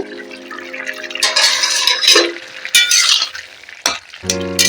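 Ridge gourd and potato vegetarian curry stirred in a pan, with scraping, sizzling bursts of spoon against metal in irregular strokes, close and moderately loud, with no voices.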